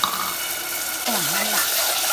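A spoon stirring a mutton and ridge gourd curry mixture in a pot, with a wet, bubbling scrape and sizzle that holds at an even level throughout.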